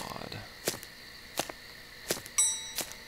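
Bright metallic bell strikes in the horror game Hylophobia, four or five sharp dings spaced about every 0.7 seconds, ringing clearly over a quiet eerie background with a brief higher chime near the end.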